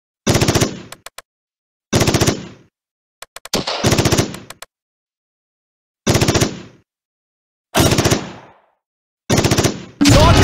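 Machine-gun fire in the Close Combat war strategy game, loud, close bursts of rapid shots repeating about every one to two seconds, with silence in between.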